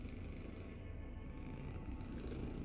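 A male senior shelter cat purrs close up, a steady low rumbling drone running unbroken and fairly quiet throughout, with no talking.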